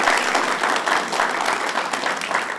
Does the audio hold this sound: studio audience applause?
yes